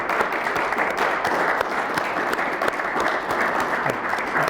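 Sustained audience applause following a talk and question session, dense even clapping from a roomful of listeners, fairly loud and close, holding steady for several seconds with no talking over it.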